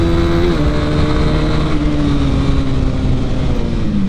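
A Honda CB 300R motorcycle accelerating, a loud, close, continuous engine drone that pulls steadily through the revs with slight pitch changes, with no talking.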